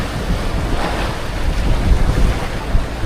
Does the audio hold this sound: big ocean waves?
yes